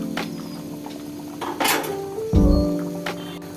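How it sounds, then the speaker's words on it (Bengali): Thin khichuri with rice, dal, chicken and vegetables is stirred in a metal pot, giving close clinks and scrapes of a utensil against the pot over a soft sizzle, with one heavier knock. "এই সময়টা কিন্তু খিচুড়িটা একটু নেড়ে চেড়ে দিতে হবে, না হলে নিচে লেগে যাবে।"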